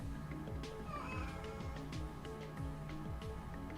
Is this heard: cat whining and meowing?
yes